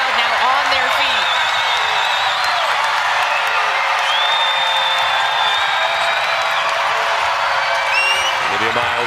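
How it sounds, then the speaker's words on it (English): A basketball arena crowd at a women's college game roars on its feet, a loud sustained wash of cheering and whoops heard under a play-by-play commentator's talk. "As you hear the crowd now on their feet"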